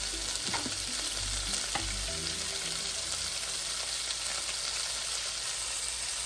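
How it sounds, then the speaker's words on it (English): Pork pieces frying in olive oil in a pan, a steady dense sizzle throughout with a few low knocks and scrapes early on, close and even, no voices. "I'm going to fry all this pork"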